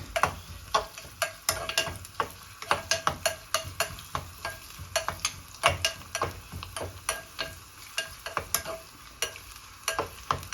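Chopped coconut pieces fry in melted ghee for a jackfruit payasam, a bubbling sizzle punctuated by rapid, rhythmic clicks and scrapes of a spoon stirring against the pan, close and steady with no voices.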